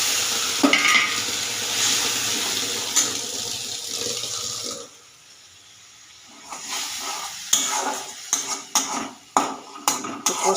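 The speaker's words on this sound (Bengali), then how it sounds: "এগুলো দিয়ে একটু ভেজে নেব।" Ground Kashmiri chilli powder and hot chilli powder frying in a pan with a splash of water for a Bengali katla fish curry, a loud steady sizzle with stirring scrapes, briefly going quiet midway before clattering stirs resume.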